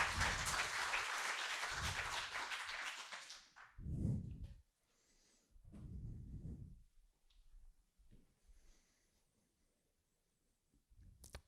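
An audience at an eloquence contest evening gives a loud burst of applause to welcome a speaker; the clapping lasts about three seconds, then cuts off into near silence with a few faint thumps.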